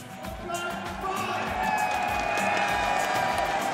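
Large esports crowd at EVO 2018 cheering and applauding for Guilty Gear Xrd player LostSoul after his top 8 run, a sustained roar of whoops and clapping that swells and stays loud throughout.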